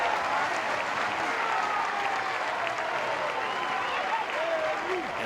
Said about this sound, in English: the more excited this Louisville crowd gets